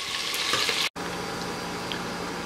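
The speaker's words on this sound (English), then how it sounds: "sliced onions and uh, green chilies add them and fry this till the onions are soft" Sliced onions and green chilies fry in a pan for prawn pulao, giving a continuous close sizzle with a brief dropout partway through, then the frying resumes evenly.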